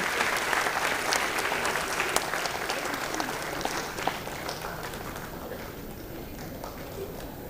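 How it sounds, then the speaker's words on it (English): A large audience at an annual management-institute convocation claps for an award winner, dense and loud at first, then slowly thinning and easing off toward the end. "A big round of applause for Namita SG."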